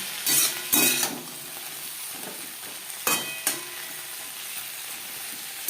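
A spatula stirs mixed vegetables, drumstick pieces and brinjal in a pan for a bitter tetor jhol. Sharp scraping strokes come in irregular bursts, near and clear, over a soft, constant sizzle, with no voices.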